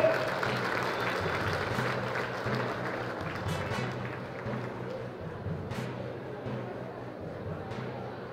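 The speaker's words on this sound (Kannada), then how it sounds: "ನಮ್ಮ ಸರ್ಕಾರದ ಈ ಘನ ಕಾರ್ಯಕ್ಕೆ ಒಂದು ಜೋರಾದ ಚಪ್ಪಾಳೆ" A crowd at a public government function bursts into loud, sustained applause that gradually thins out over several seconds, with faint voices mixed in.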